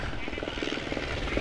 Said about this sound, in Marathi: हेलिकॉप्टर या ठिकाणी लँड होतंय